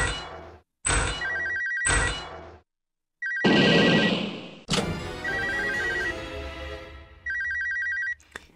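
Telephone ringing in a scary video game, repeated electronic bell rings in regular bursts, joined midway by loud thuds and a heavy slam, with ringing continuing afterward.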